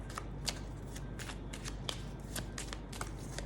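Lenormand cards being shuffled by hand during a tarot-style reading, a soft continuous riffling with repeated brighter card-slap bursts every half second or so, close and quiet, with no talking.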